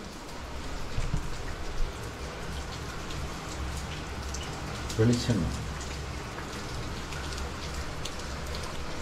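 Steady rain falls throughout, a dense even patter on surfaces outdoors, with a brief louder burst midway; a person speaks briefly over it.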